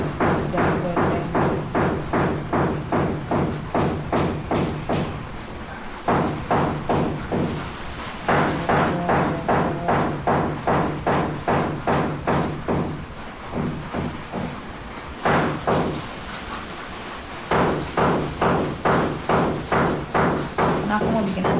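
Steady rhythmic hammering from a house renovation upstairs, with fast regular thuds in long runs and brief pauses, heard indoors with a voice talking over it.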